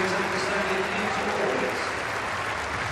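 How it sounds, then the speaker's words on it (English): Indoor athletics arena crowd applauding during a women's pole vault final as an injured athlete is wheeled out, continuous distant clapping with commentators talking over it. "Chevrier getting applause as she's being wheeled out of the arena"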